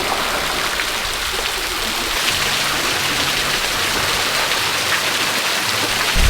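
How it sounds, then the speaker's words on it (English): Steady rushing of a waterfall near Coffs Harbour, Australia, mixed with a flowing creek, a continuous broad splashing hiss with no voices. "it is still flowing, and that water's so clear under that waterfall."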